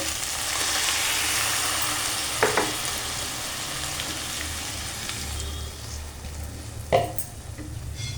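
Loud, steady sizzling of water hitting a hot pan of soybean chunks and potato with green chilies, a continuous frying hiss with a couple of brief stirring clatters.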